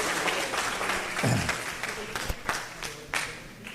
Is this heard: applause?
yes